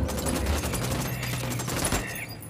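Rapid bursts of gunfire from the tactical shooter game Ghost Recon Wildlands, dense and continuous for about two seconds before tapering off, loud and close with no talking.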